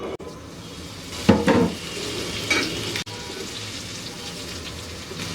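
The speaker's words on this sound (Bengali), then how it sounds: "এখন এই একই তেলে আমি এই কচুগুলাকে দিয়ে ভেজে নেব" Taro pieces frying in the same hot oil used for pumpkin, a steady sizzle broken by a couple of sharp utensil clanks and stirring bursts, close and without speech.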